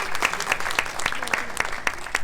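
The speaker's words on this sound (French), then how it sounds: "Je pense qu'on leur doit une belle applaudissement aux gens locaux." A hall audience at a local presentation applauds the local sponsors, with dense clapping and regular louder accents from nearby hands.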